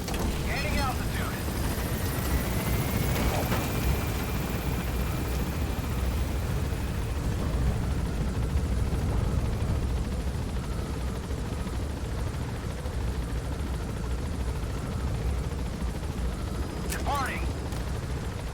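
A helicopter in Metal Gear Solid V gains altitude and leaves a landing zone, with a steady, loud rotor and engine roar throughout, a few sharp game sound effects, and radio-style voice lines over it.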